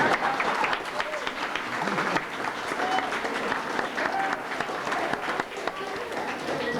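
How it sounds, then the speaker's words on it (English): Banquet audience applauding in a hall, a steady, dense round of clapping from many hands that holds loud for the full stretch, with scattered voices mixed in. "please, a round of applause for the people here at Tufts University"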